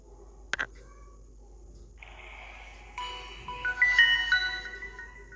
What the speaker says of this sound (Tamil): ஸோ இப்போ ஆன் பண்ணுற அந்த சவுண்டு கேளுங்க.